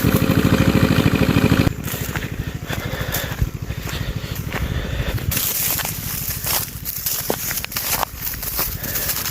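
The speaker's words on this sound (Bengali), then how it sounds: "মেশিন স্টার্ট দিলেন?" A machine engine starts and runs with a loud, steady low rumble and rapid regular pulsing, near and continuous, shifting to a rougher, slightly quieter chug partway through.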